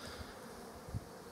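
Honeybees in a bee package hum in a faint, steady drone with a few soft bumps and no voices.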